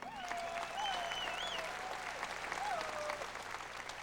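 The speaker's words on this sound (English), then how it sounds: "How about a nice round of applause for the band one time?" An audience at a Grand Ole Opry country music show applauds the band with steady, sustained clapping, while a voice carries on over it.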